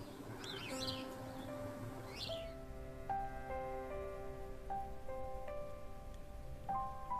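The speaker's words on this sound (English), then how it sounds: "Little sparrows there, house sparrows, mixed in with the cardinals." House sparrows and cardinals chirp in a snowy, windy winter outdoor setting. Scattered clear tweets and short call notes rise over a steady background hiss of wind, at moderate distance, with no talking.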